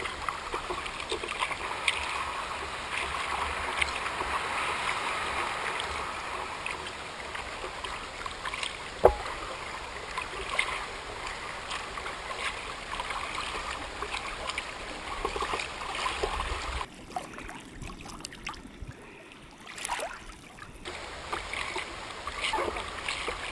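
A kayak is paddled on the water of Ansons Bay. There is a steady soft wash of water and trickling around the hull, with faint splashes from the paddle and a breezy background.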